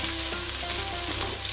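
Onions frying in hot oil with bay leaf, cardamom, cinnamon, cloves, black pepper, cumin and shahi jeera for an Eid mutton bhuna: a brief, steady close sizzle with a faint stir, no voices.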